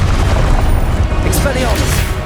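Confringo blasting spell from Hogwarts Legacy on PS5, a loud, dense booming blast with rumbling low end that rolls on without a break, with voices faintly mixed in.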